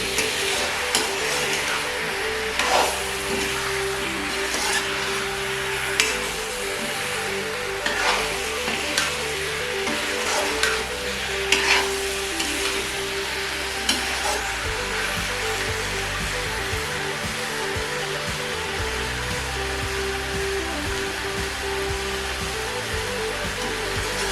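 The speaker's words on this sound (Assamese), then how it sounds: "এনেদৰে 5 মিনিটমান সময় লৰাই দিম।" Jackfruit curry is stirred in a pan, a steady sizzle under intermittent scraping and knocking of the spoon, with a constant background hum throughout.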